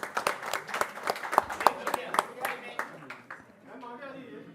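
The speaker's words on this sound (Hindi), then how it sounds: "तालियां।" Audience clapping at a 74th birthday celebration event for PM Narendra Modi, organised by the Centre for Narendra Modi Studies, with scattered hand claps over voices, the clapping thinning out after about three seconds.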